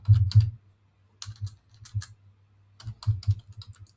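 Typing on a computer keyboard: scattered clusters of light key clicks in short bursts with quiet gaps, close and fairly soft, no voices.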